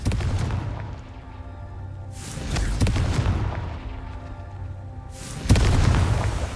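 Confringo spell blasts in Hogwarts Legacy, several booming explosive bursts at intervals, each swelling into a broad rumbling roar, loud and close.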